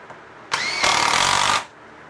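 A power drill drives a screw into the wooden leg of an outdoor swing stand, one loud whirring burst of about a second that steps up in pitch as the screw seats, close and alone.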